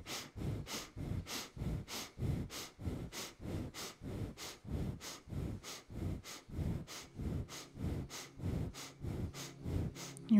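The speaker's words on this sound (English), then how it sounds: "breath of fire." Breath of fire in kundalini yoga: rapid, rhythmic nasal breathing, roughly two sharp exhales per second, close and steady throughout, with no talking.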